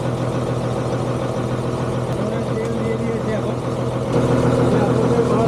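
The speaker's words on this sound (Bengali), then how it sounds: "ইঞ্জিনের একটা বহুত সাউন্ড আছে" A boat engine runs loudly on a Sundarbans river trip, a steady, close, droning rumble throughout that swells slightly near the end, with a person talking over it.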